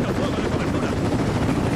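A helicopter's rotor thumps loudly and continuously in the video game Rise of the Tomb Raider, a dense, steady roar filling the scene with a voice faintly under it.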